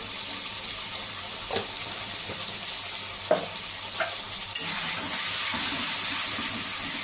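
Masala spice paste of turmeric, cumin and Kashmiri chilli with green chilli paste fries in oil for a tengra fish curry, giving a steady sizzle with a few sharp scrapes of stirring and a louder hiss near the end.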